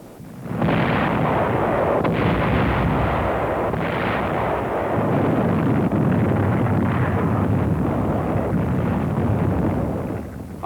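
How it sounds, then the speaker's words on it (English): Archive audio of WWII artillery firing on Okinawa's defensive line, supported by tanks, gives a continuous loud rumbling roar of heavy guns with no pause, dense booms merging into a thick wash of noise until it cuts off. "Artillery, supported by tanks, went to work on the enemy's defensive line."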